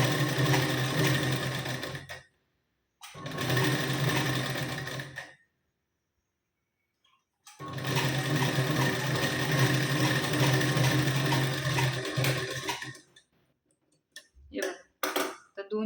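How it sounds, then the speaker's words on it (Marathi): A domestic sewing machine stitches two stacked blouse pieces together in several close, loud bursts of rapid whirring, separated by pauses, with a few short taps near the end. "आपण अशी हे दोन्ही पाट एकावर एक ठेवून शिलाई देऊन घेऊ इथे"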